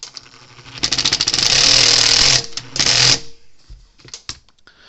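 Power driver running a self-tapping screw into an old Sears fence charger, two loud close whirring bursts with a short pause between, followed by light handling clatter.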